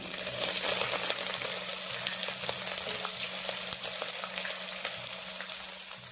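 Onions, green chillies and spices fry in oil for vegetable dum biryani, giving a steady close sizzle with faint clinks of stirring and no speech.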